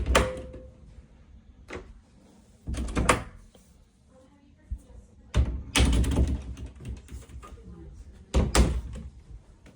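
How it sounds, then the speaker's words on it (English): Double closet doors in a house bedroom open and close, giving a few separate thuds and rattling bursts with quieter gaps between them, heard close by while people talk nearby. "Double door closet."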